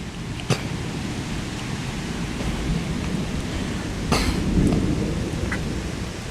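Steady rain falling outside during a rained-out outdoor concert, a dense even hiss with a few sharp cracks of nearby thunder, and no talking.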